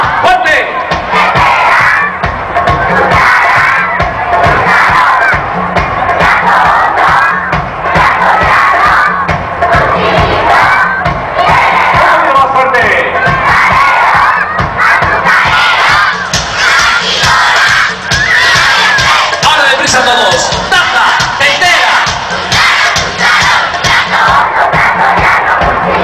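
A large live-show audience sings and shouts loudly and energetically, voices blending into a continuous roaring chant that stays intense throughout.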